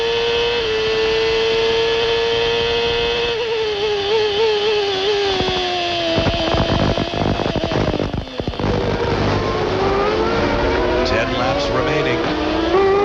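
Formula One race car engine from the 1994 Canadian Grand Prix, near and loud: a sustained high-pitched wail shifting in pitch as revs change, with a broadcast commentator talking over it.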